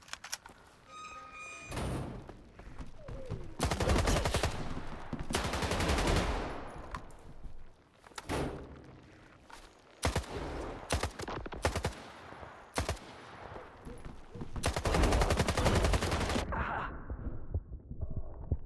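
AK rifle fire in the shooter S.T.A.L.K.E.R. 2: Heart of Chornobyl, loud close bursts of automatic shots broken by short pauses and repeated across the stretch, with heavy thuds between them.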